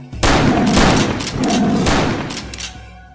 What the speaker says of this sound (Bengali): এক্ষুনি গুলি করুন স্যার, গুলি করুন।